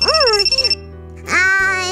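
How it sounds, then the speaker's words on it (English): A mobile phone rings in a classroom before a lesson: a bright repeating electronic ringtone, loud and close, with a child-like voice talking over the first half before the ringing resumes alone. "マキナ、あんた携帯鳴ってるわよ。"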